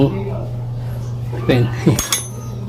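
A 17mm wrench clinks against metal while it is picked up and fitted to a bolt during an oil change on a Yamaha Mio Soul i 125 scooter, with a few close metallic taps over a steady hum and some speech.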